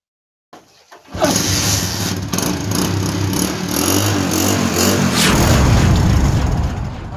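A motorcycle being checked kicks to life after a short silence. It settles into a steady idle, then revs harder and louder toward the end, with no talk over it.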